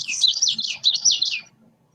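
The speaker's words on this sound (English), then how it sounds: "witchity, witchity, and Carol's going to play that. It's kind of a slow sound compared to most" Recorded birdsong of a warbler giving a repeated witchity call, a run of rapid, rolling phrases that repeat steadily, clear and close, then stop abruptly.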